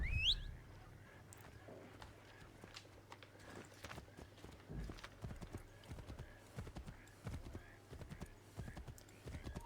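Horse hooves clip-clop in a steady walking rhythm in Assassin's Creed 3 Remastered, preceded by a brief whinny, close and fairly quiet over a low ambient hum.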